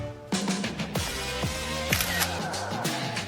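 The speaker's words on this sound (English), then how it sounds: "let me take a photo of you" Camera shutter clicks sounding several times in quick succession against a busy background with a musical tone, each snap crisp and close, taken in front of a cardboard selfie wall.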